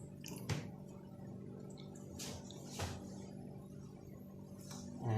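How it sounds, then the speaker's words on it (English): A bottle lowered into a container of water during a home yeast metabolism experiment, with a few faint drips and soft splashes spread over a quiet, steady background, with no talking. "Then we will submerge the bottle inside the water."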